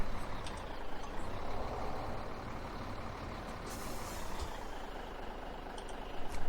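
Heavy truck driven in Farming Simulator 17 on a Canadian farm map, a steady droning engine rumble with hiss running throughout, briefly joined by faint air-brake-like bursts, no talk.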